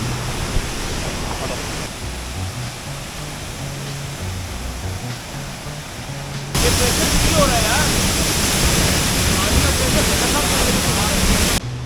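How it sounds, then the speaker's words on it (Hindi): Banjhakri Falls near Gangtok roars with heavy, rushing water in a steady broadband wash that grows louder and closer partway through. "ये है बंजाखरी फॉल्स। भर भरा के पानी आ रहा है ना।"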